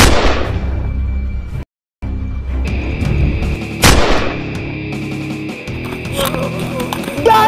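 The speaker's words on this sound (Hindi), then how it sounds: "उसके सर पर गोली मारो" Gunshots ring out in a zombie fight, with a loud blast at the start and another sharp shot near four seconds over a dense, rumbling background, with some faint voices.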